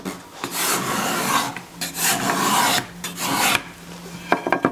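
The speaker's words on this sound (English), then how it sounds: "I'm going to scrape each side of the leg to remove saw marks." A hand scraper works along the sides of a wooden table leg to take off saw marks, giving loud, close rasping strokes in a steady rhythm of repeated pushes with brief gaps between them.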